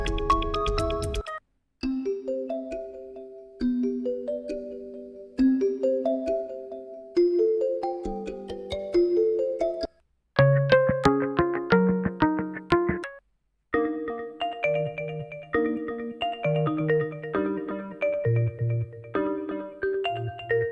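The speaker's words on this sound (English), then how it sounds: "click on each one and it'll play a little example of what the ringtone is" Android phone ringtone previews play one after another: short tonal melodies of chimes and synth notes, each stopping abruptly before the next begins, clear and fairly close with no talking.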